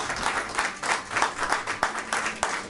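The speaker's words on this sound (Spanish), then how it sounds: "Y eso merece un aplauso." A church audience breaks into applause, steady rhythmic clapping from many hands with a few sharper claps standing out, continuing loud and close throughout.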